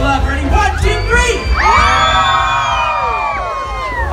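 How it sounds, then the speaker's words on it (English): A Disneyland holiday dance party crowd screams, whoops and cheers loudly, with children's high shouts and a rising yell cutting through the constant roar, close and unbroken across the whole moment. "All right, everybody scream."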